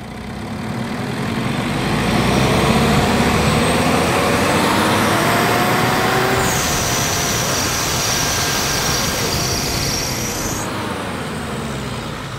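Mitsubishi Montero engine revved steadily toward about 4000 RPM, a broad loud roar with a high thin turbo whistle rising in over the middle of the run, then fading as the revs drop.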